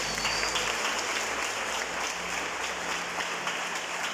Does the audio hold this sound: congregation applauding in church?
yes